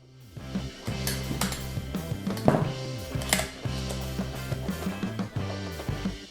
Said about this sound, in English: shake the tray side to side to level it out